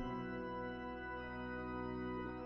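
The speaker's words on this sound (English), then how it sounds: "Funeral march. This is definitely a funeral march." A sustained, full pipe organ chord from a video game funeral march holds steadily, slow and solemn, with rich layered tones and no talking.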